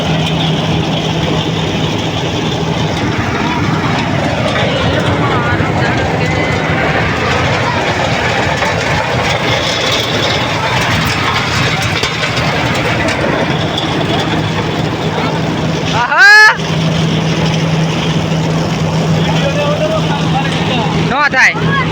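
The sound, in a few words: mini tractor engine running during harvest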